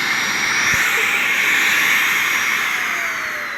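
A vacuum cleaner runs steadily on a comforter inside a house, a loud continuous whine and airflow roar holding level throughout with a brief thump near the start.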